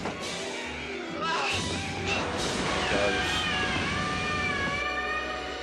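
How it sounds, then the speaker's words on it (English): A drawn-out, wavering cat-like yowl from the film The Evil Dead (1981) rises and bends in pitch for several seconds, fairly loud, with no talking over it. "Sound like a cat or something then, you hear that?"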